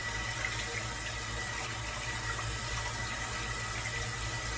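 A faucet runs steadily, water splashing into a sink with a constant rushing hiss and no pauses.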